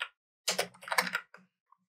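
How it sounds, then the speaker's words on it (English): Close computer keyboard typing in short bursts, a cluster of crisp keystrokes followed by a couple of isolated taps, with no voices. "then can type find a store"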